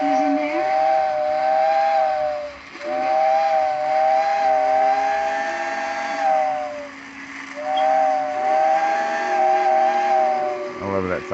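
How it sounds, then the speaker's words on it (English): A Tyco steam whistle accessory on an HO model train layout blows three long, wavering whistle blasts with short gaps between them, each loud and close, over a steady hiss and background rumble. "That is a neat sounding whistle. Pretty cool accessory by Tyco"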